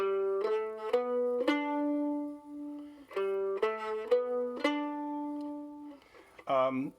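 A mandolin plays a short rising four-note figure twice, bright and close, each note ringing briefly before the next, ending with a quick strum.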